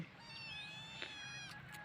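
A house cat meows in a long, drawn-out, whining call, close and fairly soft, with a brief higher cry near the end.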